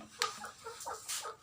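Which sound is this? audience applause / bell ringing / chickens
chickens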